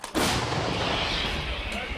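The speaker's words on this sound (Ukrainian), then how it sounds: "Гармата! Постріл!" A loud, close artillery cannon blast booms suddenly in the war in Ukraine, its heavy rumble and roar sustaining without fading across the rest of the moment.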